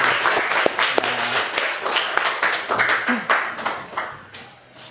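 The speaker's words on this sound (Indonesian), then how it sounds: "Berikan tepuk tangan untuk teman-teman kita" Classroom applause for classmates, a burst of irregular clapping with a few sharper claps standing out, tapering off near the end, fairly close and with no talk over it.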